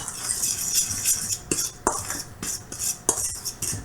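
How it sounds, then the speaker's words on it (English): Flour, sugar and baking powder are stirred together for biscotti dough in a bowl, giving steady soft scraping and swishing with a few sharper clicks of a utensil against the bowl, close and fairly loud, with no talking. "so you mix that until they're kind of mixed together"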